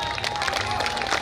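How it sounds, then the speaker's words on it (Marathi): An audience at a poetry and song gathering in Amravati claps in a dense, continuous patter of applause with some crowd noise. "जोरदार टाळ्या वाजवा."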